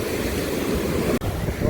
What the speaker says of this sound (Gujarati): આપણે દરિયા પહોંચી ગયા હાલો દરિયો છે આવી રીતનું પાણી આવી ગયું છે ઠેઠ સુધી